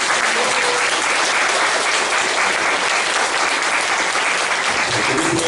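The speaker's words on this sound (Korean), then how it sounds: "우리 축하의 박수를 부탁드리겠습니다." A church congregation applauds in celebration of a newly blessed couple at a worship service, a dense, loud, even wash of clapping that holds steady without pause for several seconds.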